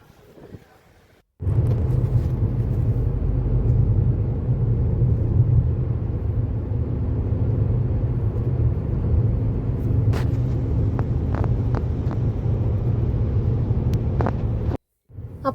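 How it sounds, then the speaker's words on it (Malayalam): Strong morning wind at a roadside restaurant in Tenkasi buffets the microphone as a loud, continuous low rumble. It cuts in abruptly and drops out briefly near the end. "ഭയങ്കര കാറ്റ്."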